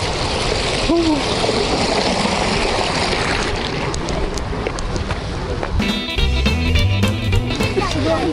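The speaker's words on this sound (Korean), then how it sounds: "물소리 너무 좋아요." A stream, Daedongcheon in Sojedong, rushes and splashes steadily nearby, with faint voices and bits of street activity mixed in, growing busier toward the end.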